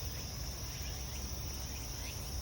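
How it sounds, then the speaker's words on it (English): A steady, dense chorus of insects, high continuous trilling and buzzing from crickets and cicadas, unbroken throughout, with a low rumble underneath. "the final sounds of the cicadas and the various orthopterans that are singing"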